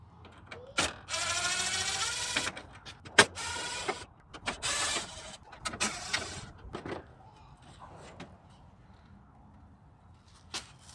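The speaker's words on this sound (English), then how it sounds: "All right, I'm gonna start with the grill, and I believe it's just four screws, two up top and two inside." Screws are backed out of the front grille of a Jeep Grand Cherokee ZJ, with bursts of ratcheting and whirring from a driver, close by, separated by short clicks and handling noises.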